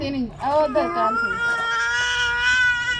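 A young child crying nearby in a wavering, sobbing wail that rises and then settles into a long drawn-out whine, filling the whole moment.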